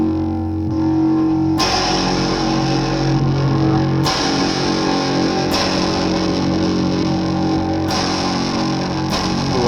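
Heavily distorted electric guitar chords ring out loud and sustained, struck anew every couple of seconds with a gritty, saturated buzz.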